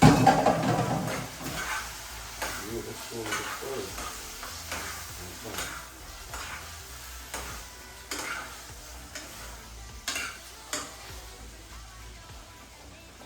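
A spoon stirs food frying in a pot, giving repeated scraping and tapping strokes over a low sizzle. The loudest stroke comes at the start and later ones are softer.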